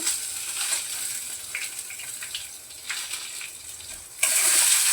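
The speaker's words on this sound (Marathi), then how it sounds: "आता हळद टाकायच्या अगोदर मी ते लसूण आणि अद्रक जे आहे ते टाकते" Garlic and ginger frying in a pan with coconut, a steady close hiss of oil with faint stirring, swelling into a louder, brighter sizzle near the end.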